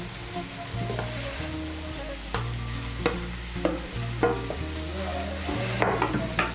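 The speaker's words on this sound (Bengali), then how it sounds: "চিংড়ি মাছগুলোকে মিশিয়ে নেব কচুর লতির সঙ্গে।" Fried prawns are stirred into taro stolons and spice masala in a pan over medium heat, with repeated rhythmic scraping stirs and clinks of the spoon over a continuous sizzle, close up and without talk.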